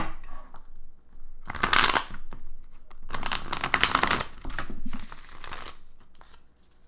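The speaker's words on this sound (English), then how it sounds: "Almost done shuffling here" Tarot cards are shuffled by hand in several brisk bursts of crisp riffling and flicking, close and fairly loud, with short quiet gaps between them.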